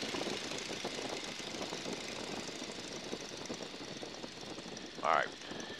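A PT-17 Stearman biplane engine drones steadily after being throttled back to about 1,300 RPM, a continuous rough hum heard from the cockpit with a brief louder burst near the end.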